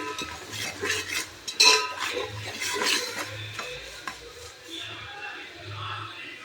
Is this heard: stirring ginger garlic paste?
yes